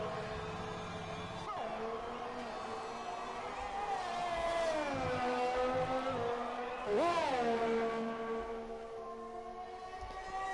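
F1 race car engine at full throttle in a racing video game, a loud continuous whine rising and falling through gear changes, with a sharp surge and pitch sweep partway through.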